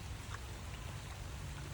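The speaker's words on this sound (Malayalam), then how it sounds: "മഴ വന്നു" Rain falls steadily near a village fishing spot, a faint, even hiss of drops with no breaks.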